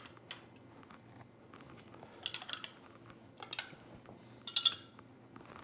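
Spoons clinking and tapping inside glasses while colorful drinks are stirred, scattered light chimes in short bursts over a quiet room.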